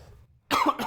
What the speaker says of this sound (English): we're gonna cough like crazy